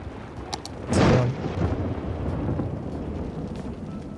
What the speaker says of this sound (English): that is a serious thunderstorm